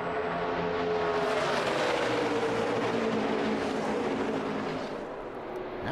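A NASCAR Xfinity Series race car engine under hard throttle, a loud sustained roar with shifting pitch as it passes, fading slightly toward the end.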